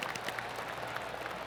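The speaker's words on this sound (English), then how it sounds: "That deserves a golf clap." Golf-course gallery applause in the PGA Tour 2K25 video game, a soft, even patter of many hands clapping, faint and distant, with no voices.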